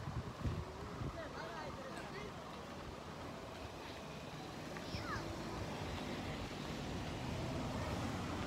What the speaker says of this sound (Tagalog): Lakas ng hangin po.